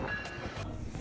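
A GO commuter train at a station gives off a steady low rumble and hiss, with faint rail clicks and brief bursts of air across a single continuous second.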